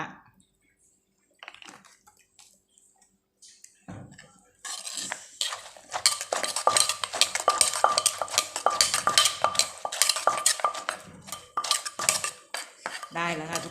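Papaya salad with crab, fermented fish and chilies is stirred. A few faint taps give way to busy clattering of utensils against the bowl that continues to the end.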